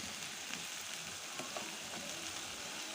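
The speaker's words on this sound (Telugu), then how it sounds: "పేస్ట్ కూడా బాగా ఫ్రై అయ్యేవి ఆయిల్ అయితే బయటికి రావాలండి" Ivy gourd masala paste with chilli powder, salt and turmeric fries in oil with a steady, close sizzle and faint stirring scrapes throughout.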